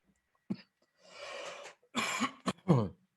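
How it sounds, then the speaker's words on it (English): A few dry coughs and throat-clearing bursts, close and sharp, separated by brief pauses and a breathy exhale. "I have a cough, a dry cough, but it's concerning."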